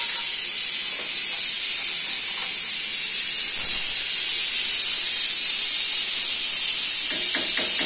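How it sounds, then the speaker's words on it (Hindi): A pressure cooker releases its steam in a steady, loud continuous hiss in a home kitchen, with faint clinks and movement beneath it. "प्रेशर कुकर का प्रेशर रिलीज कर देते हैं"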